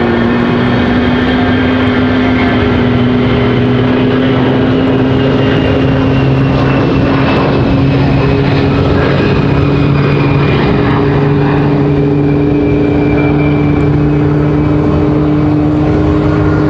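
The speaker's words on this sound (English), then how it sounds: "Mad Max firing engine number 2. He just sounds so angry." An airliner's engine spins up at Raleigh Durham airport, a loud, sustained roar with a steady whining tone that slowly rises in pitch, continuous throughout and without voices.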